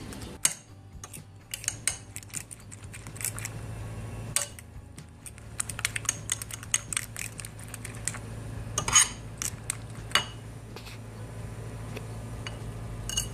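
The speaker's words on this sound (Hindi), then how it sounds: "अच्छी तरह अंडे को मिक्स कर लेंगे।" Eggs being mixed with tomato, onion, green chilli and coriander powder in a bowl, a run of light clinks and ticking taps from a utensil against the dish over a low hum, no voices.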